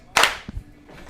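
Two hand claps keeping a beat, a sharp, close double clap followed by a softer thump, with little else around.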